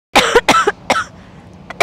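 A woman coughs in several sharp, close bursts, with a few distinct coughs spaced over about two seconds and a short pause between them; no talking.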